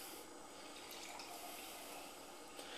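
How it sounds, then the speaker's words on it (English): Firestone Walker Velvet Merlin oatmeal stout is poured vigorously into a glass, a steady, faint hissing splash of liquid filling and foaming without talking. "As you can see, I'm pouring it fairly vigorously."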